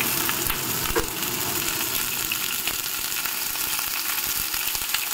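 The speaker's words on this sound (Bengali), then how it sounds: "দেখো ওই তেলের মধ্যে আমি ফুলকপিগুলোকে দিয়ে দিচ্ছি।" Cauliflower pieces fry in hot mustard oil in a wok, giving a dense, constant sizzle and crackle at close range with no talk over it.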